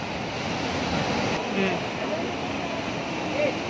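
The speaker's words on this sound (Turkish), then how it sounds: "Dalgalar bugün bayağı bir yüksek." High sea waves at Tanah Lot temple in Bali wash and crash in a constant, loud roar of surf, mixed with wind buffeting the microphone.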